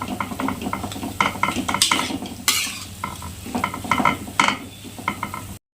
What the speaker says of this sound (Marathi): बटाटा पण चांगला आपण तेलाबरोबर परतून घेऊया।